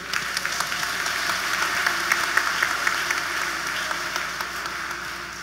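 An audience applauds inside the Notre Dame d'Haïti church during a concert and prayer vigil, a dense steady wash of many hands clapping that holds throughout and fades slightly toward the end.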